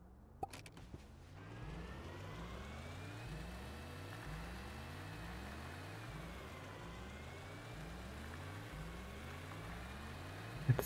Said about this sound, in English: Let's try to enter my cave with a tractor.